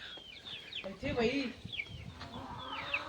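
Hens cluck and small chicks cheep in short, scattered calls close by, with some rustling around them.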